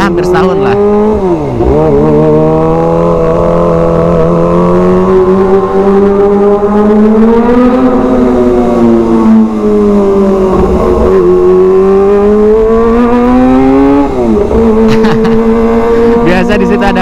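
A Kawasaki ZX25R sport motorcycle engine rides close and loud throughout, holding a steady high-pitched drone with a few rising and falling revs and shifts, no talk over it.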